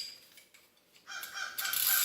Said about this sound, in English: Go ahead and use a 1-inch deep socket and remove the injector